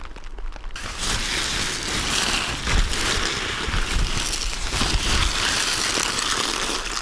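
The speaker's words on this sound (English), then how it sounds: "Freezing rain, fellas," Freezing rain and ice pellets patter densely and steadily on a tent in cold winter camping, a constant close hiss with no voices.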